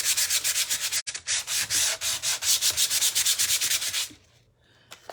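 Sandpaper rubbing back and forth over a furniture finish to rough it up, a loud steady scratchy rhythm of quick strokes for about four seconds, then stopping into near quiet with a couple of small taps.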